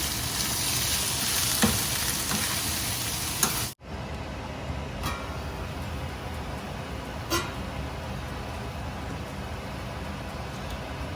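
Steady sizzling of pounded curry paste stir-frying in a hot pan, a continuous crackling hiss with occasional clinks of stirring, near and fairly loud throughout.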